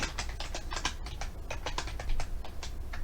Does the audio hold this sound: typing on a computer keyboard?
yes